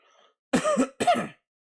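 Two short, harsh throat-clearing coughs, close and fairly loud, back to back after a faint murmur, then silence.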